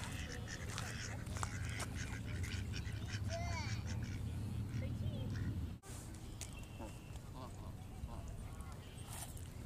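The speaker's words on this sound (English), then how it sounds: "Those are geese." Geese honking and quacking nearby in a busy outdoor flock, calls overlapping continuously, with people talking in the background.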